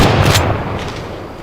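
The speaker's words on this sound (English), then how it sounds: "I shot right over her back." A single loud rifle shot fired at a deer in the hunting video game Way of the Hunter, a sharp close blast with a rumbling tail that fades over about a second.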